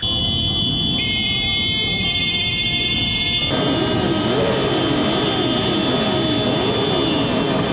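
Loud, dense roar of a column of several motorcycle engines revving together outdoors in a town square, with a high whine layered over the deep rumbling throughout.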